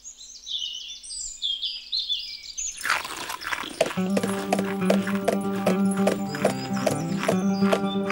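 Hooves of a walking horse clip-clop steadily on hard ground, close and regular, after a stretch of high bird chirping; a horse whinny is also heard.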